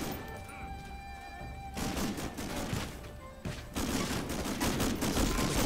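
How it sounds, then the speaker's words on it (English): Machine gun fire in an Xbox video game comes as loud, dense rattling bursts that hammer almost continuously, with short breaks between volleys. "Watch for the machine gun."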